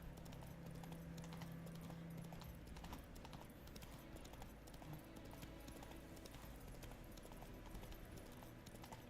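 Roach, a horse in The Witcher 3, gallops with steady rapid hoofbeats, clip-clop rhythm continuing throughout, close and loud over a dense game soundscape with music, no talk.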